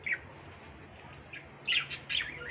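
Light-winged (clear-wing) budgerigars chirp in short high bursts, a few scattered calls early and then a busier cluster of tweets near the end over a steady background hiss, fairly close and moderately loud, with no talking.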